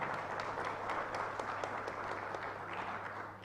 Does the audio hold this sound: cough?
no